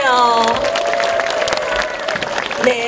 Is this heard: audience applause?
yes